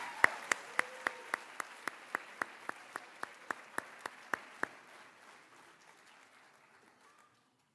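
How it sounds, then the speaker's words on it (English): Applause at a high school athletic awards night for fall all-conference members: a string of crisp, evenly paced claps standing out over softer scattered crowd clapping, ending after about five seconds and trailing into quiet. "Ladies and gentlemen, a loud round of applause for our fall all-conference members."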